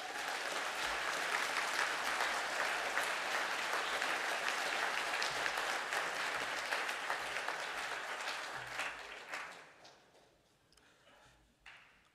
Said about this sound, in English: Can the class now stand for a round of applause?